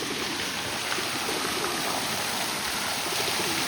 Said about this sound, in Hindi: इधर इतना कबूतर ही कबूतर हो गए हमारे